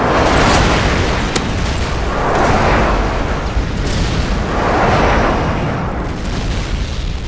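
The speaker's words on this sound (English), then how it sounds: "Friendly airstrike inbound." Airstrike explosions in Call of Duty: Modern Warfare 2, Team Deathmatch on Derail: a continuous rumbling barrage of heavy booms swelling in waves, loud and dense, with a sharp crack near the start.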